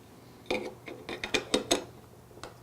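A small screwdriver turns the screws of a battery cover on an RF pack, giving a quick series of faint, close ratcheting clicks in uneven bursts.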